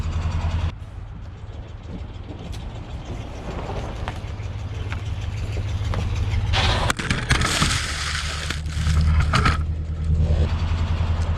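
A rough 1967 Ford Galaxie 500 engine, long abandoned, runs steadily in gear with a low droning hum, joined midway by rattling and clanking bursts before settling into a steady idle-like run.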